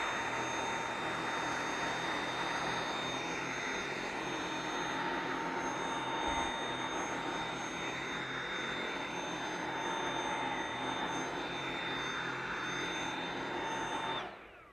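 A Dyson V7 Motorhead cordless vacuum cleans carpet with a steady, loud, high-pitched motor whine and airflow rush. It holds constant for about fourteen seconds, then cuts off at the end.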